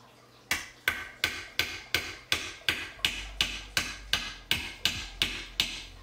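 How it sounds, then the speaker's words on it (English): Rhythmic hammering as pieces of an enclosure frame are knocked into place, about fifteen sharp evenly spaced strikes at a steady pace, close and distinct with short decays. "All you gotta do is you just gotta hammer it into place."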